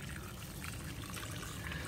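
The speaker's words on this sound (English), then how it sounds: "Just keep pouring it in. Keep pouring it in." Liquid fertiliser pours steadily into the hollow trunk of a tree fern, a continuous close gurgling splash with no break and no talk over it.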